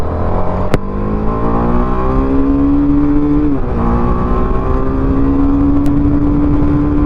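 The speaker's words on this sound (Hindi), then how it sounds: "86 किलोमीटर/आवर की स्पीड पे ये जो रेव लिमिटर है वो हिट कर देता है।" A TVS Apache RR 310 motorcycle accelerates hard through its gears to the rev limiter, the engine loud and close, rising in pitch, dropping at a shift, then climbing again and holding near the limiter.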